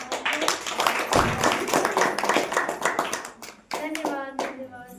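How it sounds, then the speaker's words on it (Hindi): A church congregation at a Saturday prayer meeting claps hands together in a brisk, steady rhythm, loud and close, and voices rise briefly near the end. "ताली बजा के परमेश्वर का"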